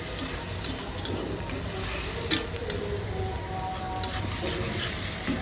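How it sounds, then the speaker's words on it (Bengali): Onions fry steadily in a pan, giving a dense, continuous sizzle with occasional small pops and light clicks, close and fairly loud throughout. "আমি পেঁয়াজগুলো ভাজার জন্য অপেক্ষা করছি"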